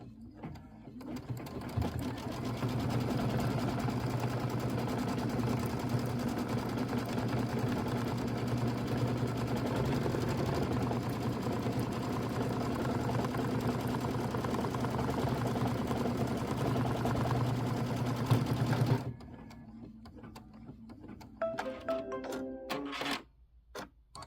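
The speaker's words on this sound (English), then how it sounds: "Let's just stitch our placement line" A sewing machine stitches a placement line on a Christmas quilt block, running in a steady close hum for about seventeen seconds before stopping, followed by a few faint clicks and handling noises.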